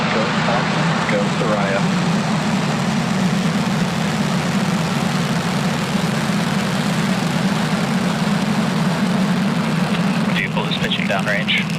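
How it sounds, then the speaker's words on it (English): Falcon 9 rocket engines roaring at ignition and liftoff from Space Launch Complex 40, Cape Canaveral, Florida: a steady, loud, broadband rumble with a strong low drone holding throughout, with faint voices in the mix. "Falcon 9 has successfully lifted off from Slick 40 at Cape Canaveral Space Force Station in Florida."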